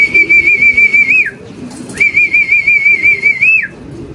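A pigeon calls close by in two warbling, whistle-like bursts, each about a second long, separated by a short pause over a low murmur of background noise.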